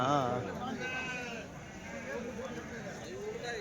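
Several sheep bleat in wavering cries, one close and others farther off, amid a noisy outdoor background at a sheep and ram market in Kadiri.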